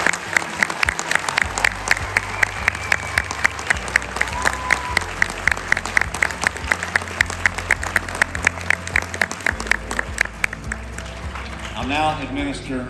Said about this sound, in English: Let's give all our troopers, new troopers, another round of applause.